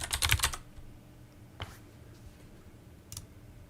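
Computer keyboard typing during a software coding session: a quick burst of clicking keystrokes up front, then two isolated taps later against a quiet background hum.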